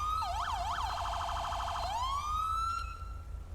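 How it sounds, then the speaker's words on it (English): A police car siren in a roleplay video game server cycles through its tones: a fast wail, then a rapid yelp, then a rising steady wail that cuts off, all clear and isolated over a low engine hum. "I'll press 1 and then I'll tap R and cycle through the sirens"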